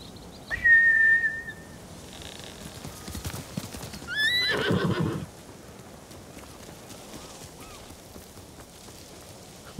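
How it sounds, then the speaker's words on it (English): Samurai horses in the video game Ghost of Tsushima gallop briefly, with a sharp hoof clatter and a whistle-like cry, then one gives a loud whinny before fading into a quiet ambient background. "Bastards scared off the horses."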